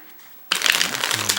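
A DMC Sharks deck of playing cards riffle-shuffles up close, a brief burst of rapid crisp flutter that starts suddenly after a quiet moment.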